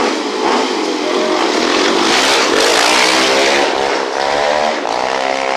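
Off-road race vehicle 66X revving hard at the start line of the Dos Mares 500 on a seafront course, a loud, close, continuous raspy engine roar rising and falling with throttle blips and no talk over it.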